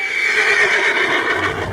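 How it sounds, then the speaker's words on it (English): A horse in the video game Red Dead Online lets out a loud, drawn-out whinny that fills the whole moment, with a faint hint of hooves and no talking. "Yeah, he's a great horse, aside from when the devils got him."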